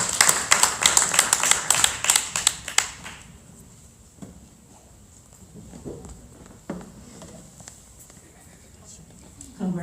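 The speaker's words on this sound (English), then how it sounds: "So just applaud yourself" An audience at a music video debut event applauds in a brisk burst of claps for about three seconds, then it drops away to scattered faint taps and murmuring room noise.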